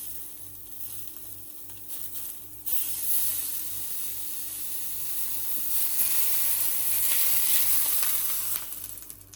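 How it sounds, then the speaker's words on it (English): Tuna pieces sear in a hot pan with a continuous bright sizzle. The hiss swells louder partway through, and scattered mechanical clicks and rattles from the pan come through alongside it. "give it a sear. You can see it immediately colours on all the sides"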